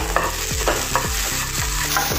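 Green chillies with a pinch of salt sizzle loudly in a pan while being stirred, the spatula scraping in a steady rhythm of repeated strokes over the continuous frying hiss.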